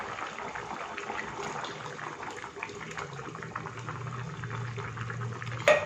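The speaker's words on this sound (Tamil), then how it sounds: "நல்லா கொதிச்சிருச்சு சூப்பராக கொதிச்சிருச்சு பாருங்கள்" A pot of butter bean kuzhambu simmers at a rolling boil, with soft, continuous bubbling and gurgling heard close by at low volume with no other sounds.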